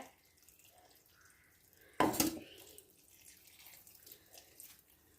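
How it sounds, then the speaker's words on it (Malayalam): Thin coconut milk, not the thick first extract, is poured into a pan for a tapioca-in-milk dish, giving one short, splashy liquid pour that stands out against a quiet kitchen background. "ഇനി നമുക്ക് തേങ്ങാപ്പാൽ ഒഴിച്ചു കൊടുക്കാം"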